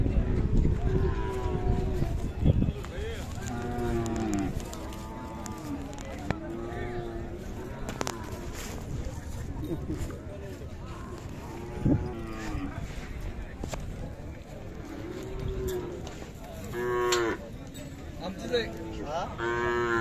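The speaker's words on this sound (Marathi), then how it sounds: "सलगरे लाईनची बऱ्यापैकी खिल्लार गाय" Several loud Khillar cows moo repeatedly at close range at a cattle market in Sangola, their low drawn-out calls overlapping amid a busy crowd with people talking in the background.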